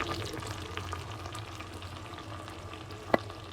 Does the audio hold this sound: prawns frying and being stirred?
yes